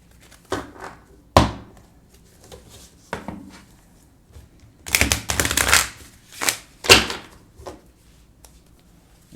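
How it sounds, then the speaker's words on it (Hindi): A tarot deck is shuffled by hand in short bursts, with quick riffling flutters and soft card slaps separated by pauses, close and clear, with no talk. "मैं शफल करके ही रखता हूँ जब भी रखता हूँ।"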